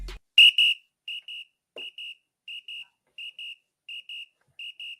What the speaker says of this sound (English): Uh-oh, you hear the whistle?